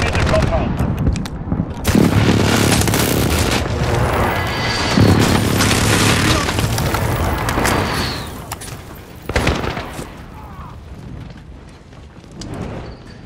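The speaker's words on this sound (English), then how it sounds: "Precision airstrike, get down!" Precision airstrike explosions in Call of Duty MW rip through a battlefield as loud, dense blasts and crackling gunfire, with heavy booms around two and ten seconds, and bursts of rumbling impacts between.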